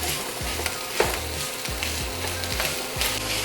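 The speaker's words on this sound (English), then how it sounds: "I'm gonna brown off this pound of sausage" A pound of sausage sizzles and browns in a pan, with steady frying hiss and repeated scraping thumps of a spatula breaking up the meat at a quick, fairly even rhythm.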